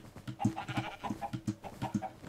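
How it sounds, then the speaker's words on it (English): Sheep bleat in Minecraft, a quick run of about eight short, nasal calls in an even rhythm, close and clear, with no talking over them. "Two sheep and three chickens, make a little song."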